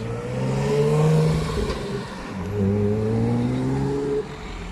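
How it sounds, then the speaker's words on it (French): A small vehicle drives past outdoors, its engine tone rising and then falling as it approaches and recedes, fairly close and alone without talk. "Tiens, un petit véhicule, le genre de véhicule que j'aime bien voir."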